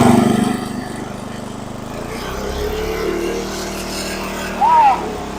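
Engine of a 1970s Sears riding mower idling high, a steady close rumble running throughout with a short louder rise near the end, while a person talks over it.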